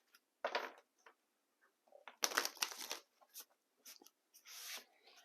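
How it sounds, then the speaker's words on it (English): Tarot cards being shuffled up close, soft papery riffles and slides in several short, irregular bursts with quiet gaps between. "Let's do some initial shuffling here."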